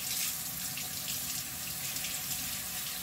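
Tap water runs steadily into a sink while a makeup brush is rinsed, a constant close hiss and splash with no talking.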